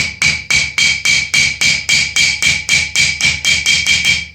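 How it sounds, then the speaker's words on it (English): A hammer strikes a rivet on the horn of an anvil while flattening it for medieval Visby gauntlet armour, about fifteen sharp ringing metallic blows at a steady, fast, even rhythm, close and loud, no talk. "I'm going to work on the horn of the anvil just because of the shape. So again, flatten the rivet,"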